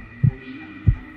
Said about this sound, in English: Let me check your heartbeat with my snazzy trunk.